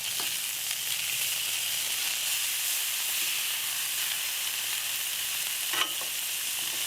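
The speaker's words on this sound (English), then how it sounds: "I'm going to let this side cook for about 4 or 5 minutes." Juicy Lucy burgers frying on a Blackstone griddle, a constant loud hissing sizzle throughout with one brief sharp tap near the end.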